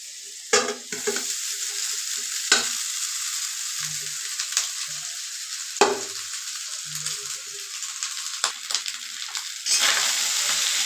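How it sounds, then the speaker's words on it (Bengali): Rice with fried potatoes and peas is stirred in a hot pan, with a steady sizzle broken by several sharp scraping strokes of the spatula and no talking. "ভালো করে নাড়াচাড়া করে আবারও ভেজে নেব।"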